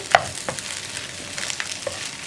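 Egg and plantain stirred and fried in a pan for mutta kaya mezhukkupuratti, a soft steady sizzle with a few scraping stirs of the spatula, close and alone.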